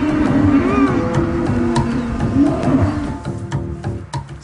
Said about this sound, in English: The wild cattle at Chillingham are the stuff of legend.